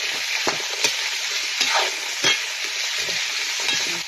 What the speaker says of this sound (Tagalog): Halo-haloin ko lang.